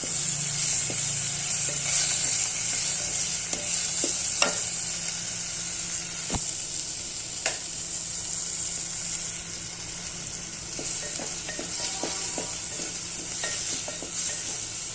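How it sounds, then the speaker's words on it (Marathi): Tomato roasting in a pan for a potato and pea curry gives a constant bright sizzle, with occasional soft knocks and scrapes of a stirring spoon, close and even throughout. "आता हा टोमॅटो पण आहे चांगला भाजून द्यायचा"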